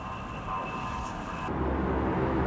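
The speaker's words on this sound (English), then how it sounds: "The U.S. Air Force now flies its A-10 attack jets from Iraqi soil." A US Air Force A-10 attack jet at an American air base inside Iraq makes a steady, continuous engine roar. The noise shifts to a deeper rumble partway through, with no talking.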